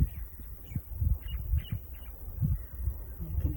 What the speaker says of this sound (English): You can hear the beautiful music of the birds that surrounds us